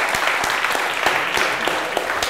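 Studio audience applauding at a Georgian student quiz show, steady clapping with a few sharper claps standing out, filling the whole moment without speech.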